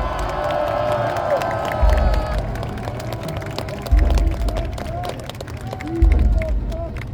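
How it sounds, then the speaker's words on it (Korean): Crowd at a presidential election campaign rally in a city hall plaza claps and cheers steadily, with scattered shouts and voices over a dense, continuous wash of applause. "여러분 큰 박수 부탁드리겠습니다."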